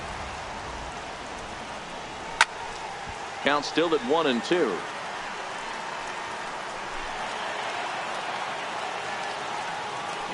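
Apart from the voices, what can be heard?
rain falling in MLB 18 The Show video game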